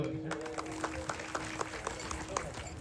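An audience at a devotional kirtan gathering in Maharashtra claps in a steady rhythmic beat, sharp regular claps over a murmuring hall with speech in the background.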